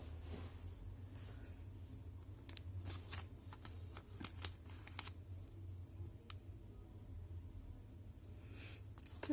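Small paper envelope handled up close in a quiet room: soft crinkles and light papery taps with a few sharper rustles, steady and intimate, no voice.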